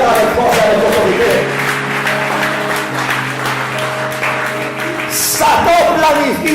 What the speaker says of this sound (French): Si tu vas applaudir le frère avec force, avec autorité.